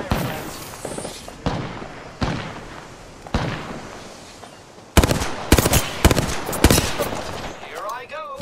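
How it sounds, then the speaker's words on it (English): Rapid bursts of gunfire from the video game Apex Legends crack out in clustered volleys, sparse early and then denser, louder strings of shots near the end, with a brief voice at the close. "I am taking fire, friends."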